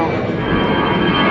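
EasyJet airliner's jet engines roaring steadily at London Gatwick Airport, a loud continuous rumble with a broad hiss that holds level and near for the whole moment.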